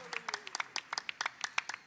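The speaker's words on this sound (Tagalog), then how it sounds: "Isang malakas na palakpak sa ating dakilang Diyos na buhay" Church congregation at a JMCIM preaching service clapping for God, a brief burst of quick, irregular handclaps, moderately close and fairly soft.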